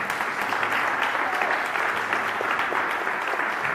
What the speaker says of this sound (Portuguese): o Senhor merece ser honrado com uma salva de palmas nesta hora.